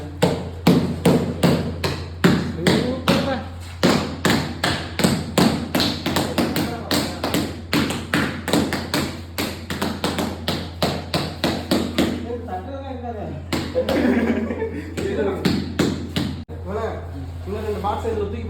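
Rapid, steady hammer taps on elevation design tiles being laid, dozens of sharp knocks in quick rhythm over a constant low hum, with a short pause and voices talking in between.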